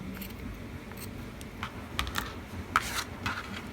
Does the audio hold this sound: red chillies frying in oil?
no